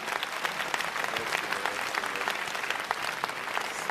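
An audience bursts into sustained applause, a dense, even roar of many hands clapping throughout, loud and close, with no one speaking over it.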